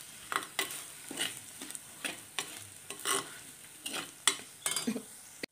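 Coriander powder and spices are stirred in a hot pan, with repeated rhythmic scraping strokes of a spoon over a low sizzle, close and fairly loud.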